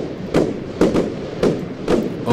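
Fireworks go off in the Roblox game Lumber Tycoon 2, about five muffled thumping bursts in irregular succession, each with a short crackling tail, fairly close and loud.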